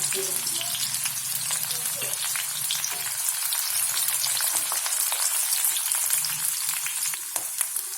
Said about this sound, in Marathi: या कांद्याला छान परतून घ्यायचं